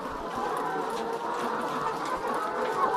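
Layer hens on a chicken farm, a dense, continuous murmur of many birds clucking together at moderate loudness, with no clear speech.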